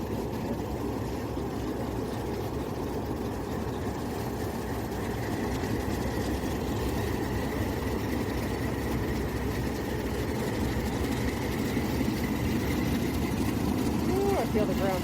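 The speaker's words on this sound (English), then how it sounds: "Listen to those engines." Diesel engines of the A and M excursion train idle with a low, steady rumble that fills the whole stretch, close and constant, with a faint tone rising late and people talking nearby.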